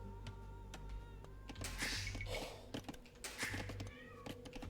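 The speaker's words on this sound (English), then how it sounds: "Oh, no, Sheriff, not with the meowing." A cat named Sheriff meows twice, close and clear, over quiet keyboard typing and a low background hum.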